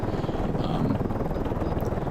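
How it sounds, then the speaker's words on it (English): A helicopter holds a steady hover on a steep Alaskan mountain ridge during a heliskiing trip, its rotor and engine giving a loud, continuous close-up drone. "He's watching the ground and making sure that the helicopter isn't moving, but he's essentially just hovering there."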